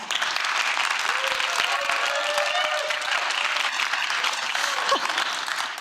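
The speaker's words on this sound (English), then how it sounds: "just give him some love with a round of applause" A theatre audience at a poetry reading event claps warmly, a full and sustained round of applause with a few faint voices rising briefly within it.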